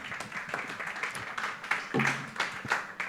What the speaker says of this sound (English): this big applause is for the whole task force